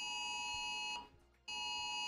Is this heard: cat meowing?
no